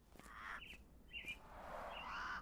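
Caged myna birds in a Sherlock Holmes video game give a few bright chirps and squawky calls, loud and close, over a steady background hum, with no talking.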